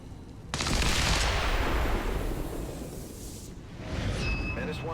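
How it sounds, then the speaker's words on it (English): Pistol shots from the XCOM 2 video game, a loud burst of gunfire with a sharp onset followed by a sustained rumbling blast that fades, then a brief electronic tone near the end. "Let's fire the pistol."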